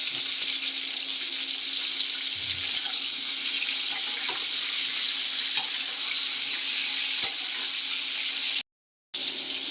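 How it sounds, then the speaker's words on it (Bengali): Water runs steadily into a metal basin set on an induction cooktop to cook rice for biryani, a continuous close rushing that stops abruptly near the end. "এখানে রাইসটার জন্য জল দিয়ে দিয়েছি একটা গামলায় ইন্ডাকশানে"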